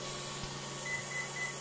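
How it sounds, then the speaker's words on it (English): During programming, a Hobbywing Max6 electronic speed controller emits three faint, brief high beeps in quick succession over a steady low hum, with a soft thump early on. "beep number three."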